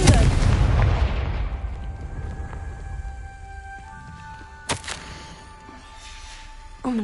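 A Confringo blasting spell goes off in a video game with a loud opening boom that decays over a few seconds, followed by a couple of sharper, fainter bursts later; little talk.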